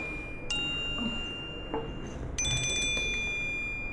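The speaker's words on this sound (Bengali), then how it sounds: "তোমার ফোন।" A telephone rings in an indoor scene, a short electronic ringtone with repeated bright chirps that start faint and grow louder, with no talk over it.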